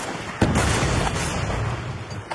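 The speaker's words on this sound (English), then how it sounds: "you can hear that this is the shot where he actually hits them" A recorded gunshot sound effect of shots hitting targets: one sharp, heavy blast, followed by a loud, dense rumbling tail that holds steady to the end, with no talking.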